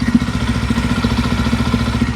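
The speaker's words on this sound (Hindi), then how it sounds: "अभी हमारी बाइक आइडल स्टार्ट है, और अगर मैं इंजन की बात करूं, इंजन काफ़ी नॉइज करता है।" A 2025 Yezdi Roadster base model motorcycle idles close by, its engine thumping in a steady, fast rhythmic putter with mechanical clatter, heard alone without speech.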